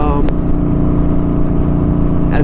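A Kawasaki Vulcan motorcycle exhaust rumbles loudly up close under throttle, a deep throbbing drone that holds steady throughout.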